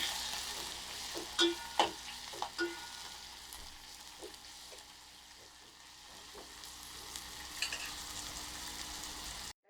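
Bottle gourd peels sauté quietly in a pan for a chutney, a soft steady sizzle broken by several light spatula taps and scrapes early on and near the end.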